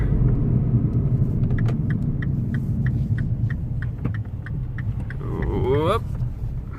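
A Mini One R56 engine, upgraded from 1.4 to 1.6 litres and suffering engine issues, idles with a steady low rumble and rhythmic ticking as the car stops, then its pitch sweeps briefly near the end as it settles.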